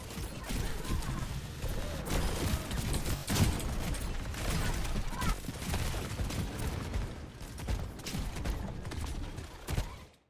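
Video game gunfire, rapid bursts of fusillade-like shots and mechanical clatter packed densely, fairly loud and continuous before cutting off at the end.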